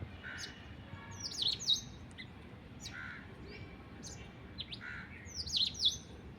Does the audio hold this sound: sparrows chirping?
yes